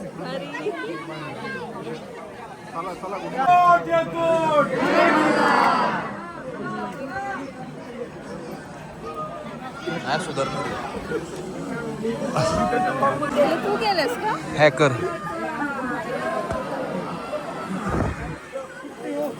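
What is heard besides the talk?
crowd chatter at Jejuri temple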